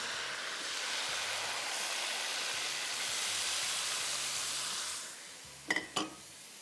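Chicken and yogurt frying in a pan for Balochi tikka karahi give a steady, broad sizzle that holds for about five seconds and then drops away, followed by two short clinks near the end.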